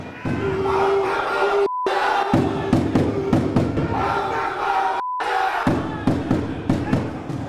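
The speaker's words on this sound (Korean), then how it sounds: "주변이 웅성이기 시작하더니 홍명보 감독을 향한 야유가 터져나옵니다" Crowd of hundreds of fans and reporters murmuring and booing in an airport arrival hall at night as a national football team arrives, a loud dense din with repeated surges and shouts.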